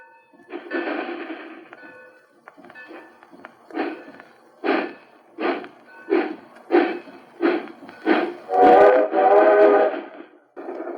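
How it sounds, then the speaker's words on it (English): A Lionel model train runs along the rails at a York train show, its rhythmic chuffing pulses growing louder and faster, with a whistle-like tone rising near the end. "Look at her streak along the rails. It's a Lionel."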